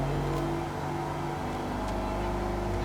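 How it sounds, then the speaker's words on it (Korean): A Maserati Grecale Modena engine hums at a steady idle just after starting, a low, even drone with faint tonal layers and no speech. "마세라티를 상징하는 이 블루를 누르시면 시동이 걸리죠."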